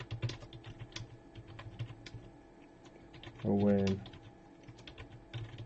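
Steady clicking of keys on a computer keyboard during a livestream, quick irregular taps at moderate distance, briefly interrupted by someone saying a name.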